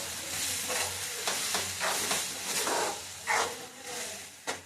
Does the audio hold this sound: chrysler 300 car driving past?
no